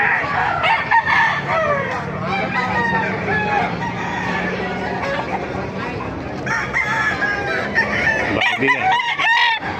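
Roosters crow repeatedly over a dense, steady background of chickens clucking, loud and close, with several birds calling at once throughout, at a gamefowl market.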